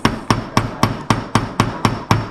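A hammer strikes a metal letter stamp into a silver ring at a jewelry workshop in Bali, nine crisp, evenly spaced taps close by at roughly four per second, each followed by a brief ring.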